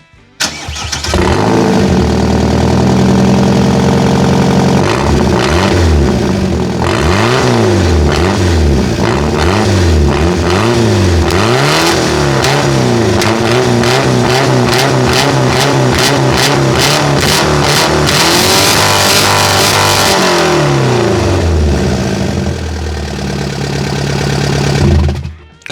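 A Ford Ka's 1.3-litre petrol engine cranks, catches and settles into a loud, rough idle, then revs up and down repeatedly before easing back. The worn exhaust rasps close by throughout, with no talking.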